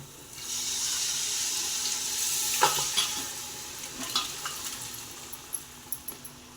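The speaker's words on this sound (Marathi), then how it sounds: "आपण त्यात आता आहे ना आपलं शिजलेलं चिकन टाकूयात" Cooked chicken goes into sizzling black masala in a home kitchen, raising a broad hiss of frying under clinking stirring strokes and scattered spoon taps against the pot, close and moderately loud.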